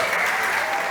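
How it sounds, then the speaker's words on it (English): Loud, dense audience applause fills a startup competition stage at a fintech event, a continuous clapping wash with no gaps, heard close and alone for the whole second. "Okay, big applause to Fernando."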